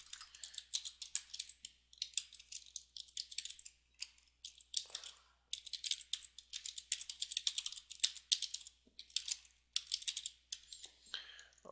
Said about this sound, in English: Sorry, this is the boring part, but it's just a lot of typing.